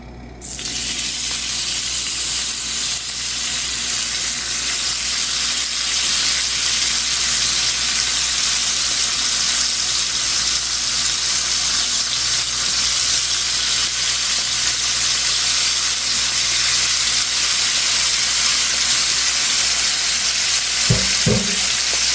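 Benton's country ham frying in a hot pan, giving a loud, dense, unbroken sizzle that lasts the whole stretch, with a couple of faint metallic clinks near the end.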